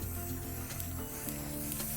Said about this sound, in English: So we need to shake it and spray paint it.